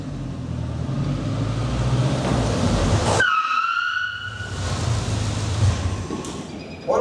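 A VW with Golf brake calipers fitted as a disc brake conversion skids loudly on gravel with the parking brake locked, a harsh grinding rush that halts abruptly into a brief squeal, then rumbles again.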